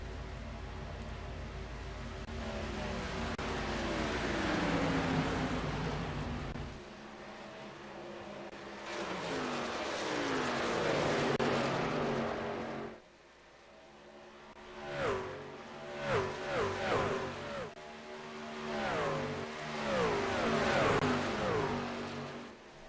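Race cars roar continuously around the Texas oval in a sim racing game, engine tones sweeping up and down as cars pass close by, with a brief dip before several rising, revving passes.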